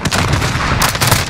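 A 1911 pistol fires in the video game Modern Warfare, giving two close, punchy reports about a third of a second apart against a loud, busy background of game noise.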